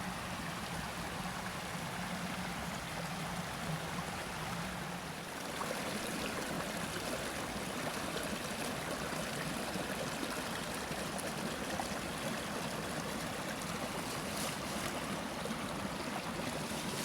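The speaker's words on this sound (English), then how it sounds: "So I think down here it's just some of these creek crossings." Creek water flows at a crossing on a mountain trail, a steady close hiss and rush of water with no pause.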